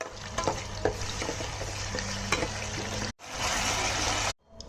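Chicken pieces for a curry sizzle loudly in a hot pan, a steady crackling hiss with scattered stirring clicks. The sound cuts out sharply twice.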